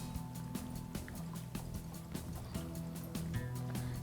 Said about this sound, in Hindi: इसको आप हिलाते जाएं कंटिन्यूसली ताकि इसके लम्स नहीं बने